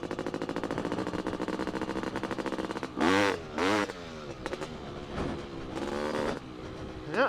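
A two-stroke dirt bike engine rattles along at a steady rapid idle-like buzz, then revs sharply in several short bursts and blips during a wheelie attempt, close and loud.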